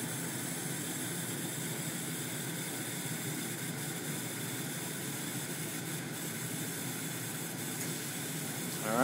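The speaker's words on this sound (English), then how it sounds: "Now the blower fan's coming on, and the light on the unit has come on as well." Blower fan of an electronic air cleaner running as a steady broadband whoosh that stays even throughout, nearby and moderately loud, with a slight rise at the very end.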